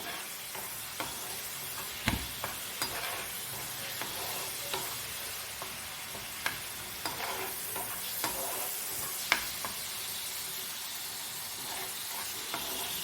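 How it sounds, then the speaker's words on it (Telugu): Onion paste fries in a pan with green chillies for a small-fish and raw mango curry, a steady soft sizzle broken by regular clinks and scrapes of a spoon stirring. "ఆనియన్ పేస్ట్ చక్కగా వేయించుకుందాము"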